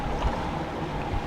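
A sailboat's engine runs steadily at sea amid floating sargassum, a low continuous drone mixed with wind and water wash, close and unbroken with no voices.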